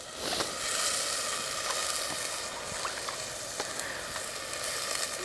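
Whole black-eyed beans sizzle as they drop into cooked masala in a Kathiyawadi-style home kitchen, a steady close frying hiss with a few soft pops and crackles running the whole time.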